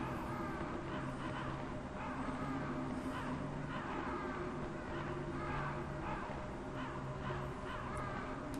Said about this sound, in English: I feel like something terrible would happen if I killed one of these crows.